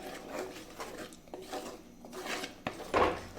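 Stirring and sautéing in a pan over a high flame: soft scraping and rubbing strokes recur at an uneven pace, with a sharp knock and a louder scrape near the end, all fairly quiet.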